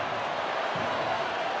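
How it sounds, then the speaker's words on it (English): A rugby league crowd at the 2023 Challenge Cup semi final between Wigan Warriors and Hull Kingston Rovers roars and lifts in a dense, sustained wash of stadium noise, with faint commentary underneath. "And again the crowd lifts."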